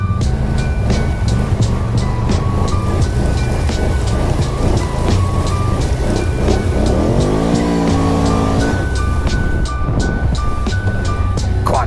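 Can-Am Outlander 1000 quad engine droning loud and steady while riding off-road, with revs rising and falling under constant wind buffeting and a few spoken words.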